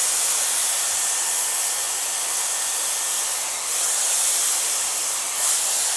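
A Dyson Airwrap hair styler fitted with a round brush attachment blows with a loud, steady airy hiss at close range for the whole stretch, with slight swells as it moves through the hair.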